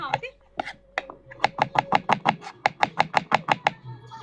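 A knife chops onions for fried onions on a board in rapid, evenly spaced strikes. The close, crisp chopping runs as a steady series, with faint voices in the background.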